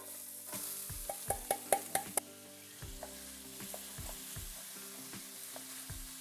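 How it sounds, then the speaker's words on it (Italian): Vegetables for stuffed peppers sizzle in hot olive oil in a pan, a steady quiet frying hiss broken by a few sharp clacks as they are stirred, with no talking. "Andiamo a inserirci dentro tutte le verdure, le facciamo cucinare per benino per qualche minuto."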